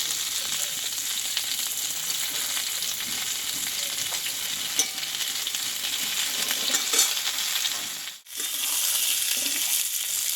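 Pointed gourd (potol) fries in hot oil with a loud, dense, continuous sizzle close up, occasional faint stirring scrapes, and a brief dip partway through before the hiss resumes.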